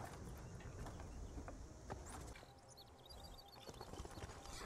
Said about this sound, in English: Okay, my horse is dancing.